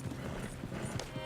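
Horses gallop in Red Dead Redemption 2, with quick, rhythmic clip-clop hoofbeats close by under a busy background of game sound.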